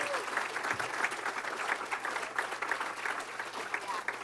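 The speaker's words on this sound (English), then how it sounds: "give her a big round of applause" An audience at a life-coaching talk and demo breaks into sustained applause, many hands clapping in a steady, even wash for several seconds, heard from a short distance.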